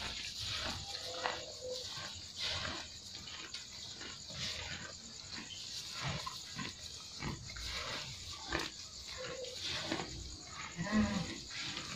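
Limousin cattle low and grunt repeatedly over a steady background of farmyard noise at night, fairly faint and at moderate distance.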